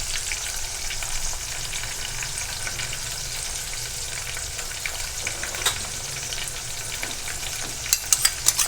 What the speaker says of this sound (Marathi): तेल सुटोपर्यंत व्यवस्थित परतून घ्यायचं